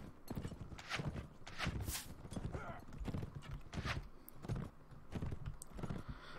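A horse in a Mount & Blade battle, its hooves clip-clopping in a steady repeating rhythm, fairly close but quiet, with no voices over it.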